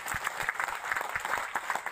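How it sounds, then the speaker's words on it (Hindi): An audience at a motivational talk applauding for Kabir ji, a dense, steady patter of many hands clapping together, moderately loud and continuous throughout. "मैं एक बार चाहूंगा आप प्लीज कबीर जी के लिए जोरदार तालियां"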